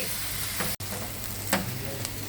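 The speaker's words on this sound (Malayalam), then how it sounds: "സവാളയും ഇഞ്ചിയും വെളുത്തുള്ളിയും എല്ലാം കൂടെ വഴറ്റുവാണ്" Onion, ginger and garlic sauté in a hot pan with a loud, continuous close sizzle, broken by a brief silent gap and a couple of stirring scrapes.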